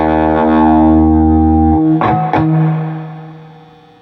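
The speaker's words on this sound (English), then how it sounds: "this is my favorite reverb on this amp, for sure" An electric guitar plays through a Peavey amp's reverb, a loud sustained distorted chord that rings out, is struck again with two sharp hits, then decays in a long reverberant tail.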